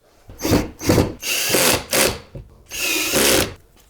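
A power drill driving screws into the door trim of a 2009-2015 Honda Pilot, in five short loud whirring bursts separated by brief pauses, close up with no talk.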